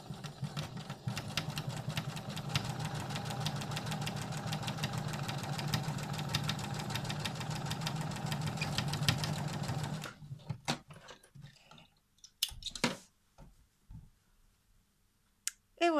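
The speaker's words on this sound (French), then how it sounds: "la première fois j'ai cousu à 5 mm, la deuxième fois donc à 1 cm, donc forcément j'emprisonne ma couture" Domestic sewing machine stitching a French seam on fabric, a steady fast whirring run of needle strokes for about ten seconds, then stopping, followed by scattered clicks and handling noises close by.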